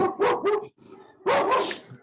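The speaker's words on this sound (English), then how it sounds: "dog walking by, and my dogs have to bark every time a dog walks by" Several dogs barking at another dog walking past, two quick close barks, then a short low rumble and one long loud bark, sounding near and sharp indoors.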